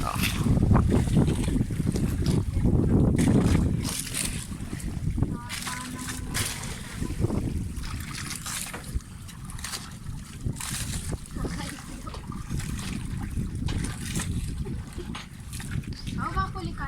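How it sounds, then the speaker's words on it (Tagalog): Strong wind at sea buffets the microphone with rumbling gusts while water splashes and a boat moves; people talk intermittently throughout. "Medyo malakas na yung hangin."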